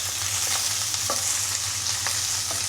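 Food being stirred and mixed in a frying pan with garlic and onion, a steady sizzle running throughout with scattered soft scraping strokes from the spoon, close and moderately loud, no talking.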